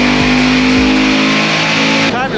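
A naturally aspirated Corvette C7 with a heads and cam setup roars loudly on a dyno, a sustained high rev that holds steady and then cuts off near the end.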